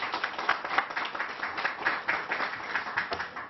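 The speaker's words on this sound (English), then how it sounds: "Let's give Kim Minkle a round of applause." An audience at a news briefing about a vaccination site applauds briefly, a moderate patter of clapping from a modest crowd, fairly even and slightly distant.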